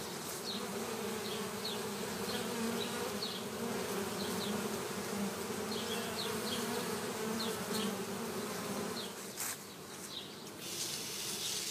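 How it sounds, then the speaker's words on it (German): A honeybee swarm hums in a dense, steady drone, many bees buzzing close by with individual bees whining past now and then, continuous and unbroken with no voices. "Das Einfangen von Schwärmen ist eine heikle Sache."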